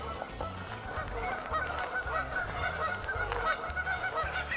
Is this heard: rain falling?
no